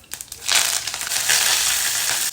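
Mustard seeds, cumin, green chilies and curry leaves hit hot oil with a sudden loud crackle and sizzle, a few sharp pops at the start swelling into a steady, close spitting hiss.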